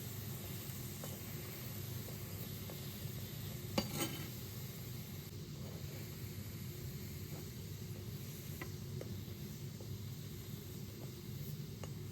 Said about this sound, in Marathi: छान तूप लावून शेकून घ्यायचे